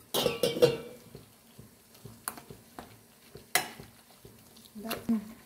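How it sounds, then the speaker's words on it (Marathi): Cooked chana dal being whisked in a pot gives off intermittent close scrapes and soft knocks, with sharper clinks every second or so against a quiet background. "तर आता मी ही डाळ आहे ना घुटून घेते"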